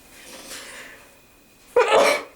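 A soft intake of breath, then one sudden, loud sneeze up close that trails off briefly.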